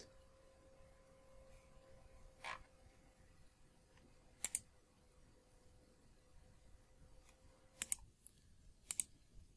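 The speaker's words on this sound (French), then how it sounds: "on doit appuyer sur la touche Entrée du clavier" A computer keyboard in an office setting gives a few sparse, sharp clicks. They arrive as isolated key presses and quick doubled taps over a quiet background hum, with no voices.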